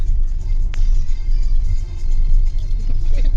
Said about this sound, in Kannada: ಡೌರಾಜ ಅಣ್ಣ ಗಾಡಿಯಲ್ಲಿ ಬರ್ತಾ ಇದ್ದಾರೆ.